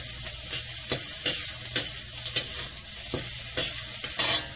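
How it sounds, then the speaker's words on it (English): Onion and garlic frying in a pan, a steady bright sizzle broken by regular scraping strokes of stirring, close and fairly loud with no talk. "We'll just really cook the onion for maybe like a minute or less"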